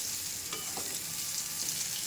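Pointed gourd (potol) frying in a pan, a close, even crackling sizzle with a couple of faint utensil taps, steady throughout and with no voices.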